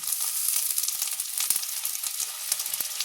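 Onion paste fries in hot oil with ginger-garlic paste, giving a steady bright sizzle from close by, dotted with soft stirring scrapes and small pops, with no talking.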